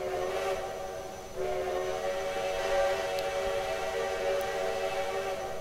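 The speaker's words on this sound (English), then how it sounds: "Definitely my favorite whistle of the lot." A steam locomotive whistle from Texas State Railroad 2-8-2 #400 in Trainz 2019 blows one long, steady chord, loud and sustained with a brief dip partway, and no voices.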